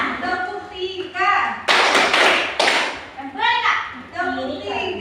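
Schoolchildren in a micro-teaching class play a rhythmic clapping game, chanting together in sing-song voices, then breaking into a loud burst of unison claps before chanting resumes.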